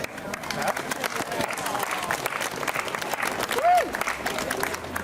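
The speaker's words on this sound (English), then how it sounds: "If we can please give them a round of applause." Applause from a crowd at a community event in Bridgend fills the air, steady clapping with some voices and chatter mixed in, and a brief whistle near the end.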